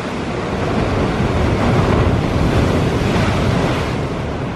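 Ocean surf washing onto a Maui shore, a loud close roar of breaking waves swelling and easing, with heavy wind buffeting the microphone and no talk.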